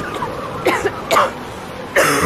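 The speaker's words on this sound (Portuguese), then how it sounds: "A tosse do inverno pegou você?" Several short, harsh coughs break out at uneven intervals against a background murmur, close and moderately loud.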